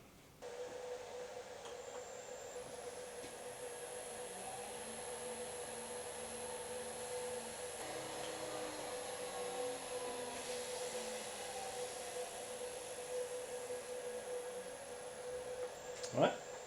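A homemade mostly-plywood metal-cutting bandsaw runs on a borrowed motor driven by a variable frequency drive, a quiet steady hum with a high electronic whine and faint wavering tones, ending in a brief knock.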